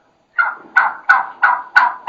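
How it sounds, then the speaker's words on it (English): Five sharp, evenly spaced yelps from an excited, aggressive wild turkey hen ring out loud and close after a brief silence. "kind of excited, kind of aggressive hen yelping at its best"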